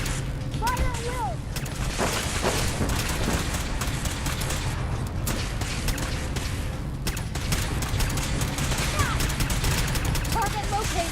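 Gunfire in the video game Fallout 4 comes as dense, continuous bursts of shots and booms mixed with mechanical game sounds, loud and sustained, while voices shout commands over the combat.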